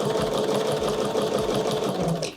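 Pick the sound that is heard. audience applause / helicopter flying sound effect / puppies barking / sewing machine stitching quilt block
sewing machine stitching quilt block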